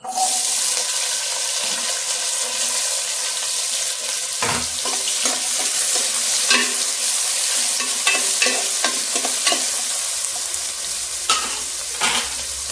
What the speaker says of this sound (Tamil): இப்போ எண்ணெய் சூடாகிட்டுருக்கு, நம்ம இந்த வெங்காயத்தை போட்டு வதக்கிடலாம்